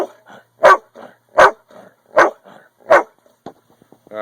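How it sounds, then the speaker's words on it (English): A dog barks loudly and close by, four strong woofs about 0.75 seconds apart, with softer grumbling yips in between and a few faint whimpers at the end, with no talk over it. "Sorry about the distracting dog."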